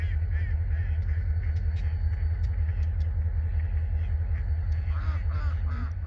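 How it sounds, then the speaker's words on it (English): Redhead or canvasback duck calls repeating faintly over a steady low engine rumble, as if heard from inside a idling vehicle at a birding spot. "This is a red-headed duck, or I think it might be a canvasback or something of the sort."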